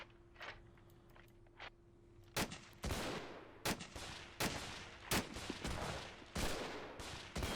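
Rifle gunfire in the WW2 strategy game Men of War, a run of sharp, loud shots at irregular intervals over a steady battlefield background noise, with no voices.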